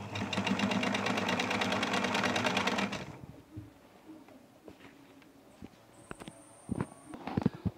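A sewing machine runs a rapid, steady stitch for about three seconds while stitching the corners of a fitted sheet, then stops, leaving quieter handling clicks and bumps of fabric.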